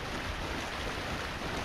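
Steady churning water sloshes continuously as a character wades through a flooded area in Dark Souls Remastered, a dense broadband wash with no talk over it.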